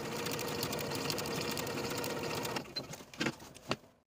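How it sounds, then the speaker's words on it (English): A sewing machine stitches a sleeve seam with a 1/4 inch seam allowance, running in a fast, steady whir up close, then slowing into a few short bursts before it stops. "And I'm going to use about a 1/4 inch seam allowance."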